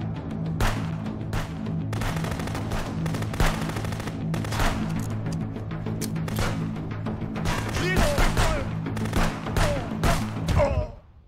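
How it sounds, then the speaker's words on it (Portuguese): Gunfire in the video game Contraband Police: repeated sharp shots in irregular bursts and volleys over a steady low hum, fairly loud, with a final burst before the sound cuts off. "Ah, levei um tiro."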